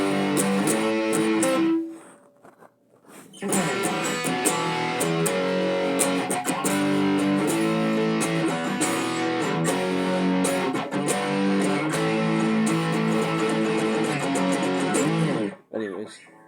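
A distorted electric guitar plays the pre-chorus of a rock song, loud and driving. A short phrase breaks off into a brief pause, then the part resumes and runs steadily before stopping abruptly near the end.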